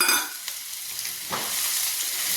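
Chopped ginger tossed into chana dal roasting in a pan for curry leaf pickle, a soft crackling fry with a stirring scrape midway, close and steady, without speech.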